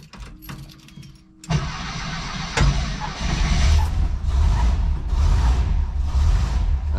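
A 1977 VW Bus engine cranks and catches, then settles into a steady, loud idle close by, with no talk over it.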